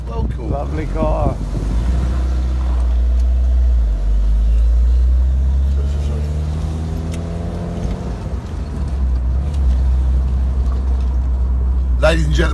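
An open-top car rolls along a busy road in traffic, giving a steady low engine and road rumble buffeted by wind on the microphone, with people talking over it.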